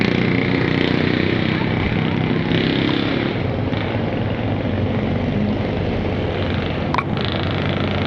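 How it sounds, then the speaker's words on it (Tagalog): A motor engine runs steadily and loudly right after its carburetor was cleaned, a continuous rough drone lasting throughout, with someone talking over it. "Ayan, napandar na. Pandar na yung motor."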